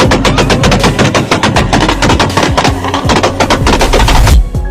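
A Toyota Supra Mk4 exhaust fires a rapid, dense string of loud backfire pops that sound like machine-gun fire. The pops run close and continuous for several seconds.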